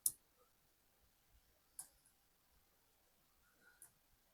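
Scattered keyboard key clicks while a router command is typed into a network lab console: a few sharp, quiet taps spaced irregularly, with near silence between them and no speech.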